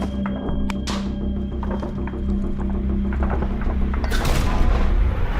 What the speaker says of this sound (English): Grenades are being used.